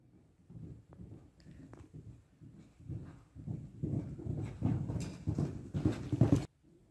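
Horse hooves clip-clop steadily during a show-jumping riding lesson, a rhythmic run of muffled thuds that grows louder and faster toward the end before stopping abruptly.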